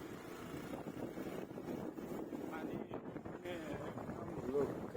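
A small boat crossing a river toward an island village, its engine and water noise forming a steady low rumble mixed with wind buffeting the microphone, while a voice talks faintly over it.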